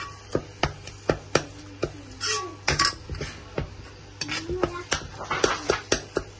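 A spoon scrapes and clanks against a pan as spice masala is stirred and fried for egg bhuna, sharp metallic taps repeating steadily over a soft background sizzle, close and clear.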